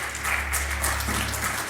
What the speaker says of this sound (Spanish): Damos un aplauso a la presencia del Todopoderoso